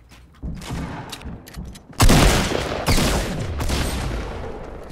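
Gunfire in the Fortnite battle royale game: a light crackle of shots, then a loud close blast followed by another sharp burst and a stretch of sustained rattling fire.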